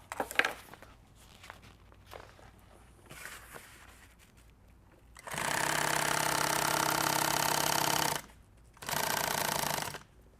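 A sewing machine stitches straight into fabric during a van build, running in two loud sustained bursts, the second shorter, after a stretch of quieter handling noises and clicks.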